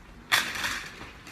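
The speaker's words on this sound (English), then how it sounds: "That's the window, y'all." A sudden scraping rush as a window slides open, loud and close, trailing into a softer rattle and hiss.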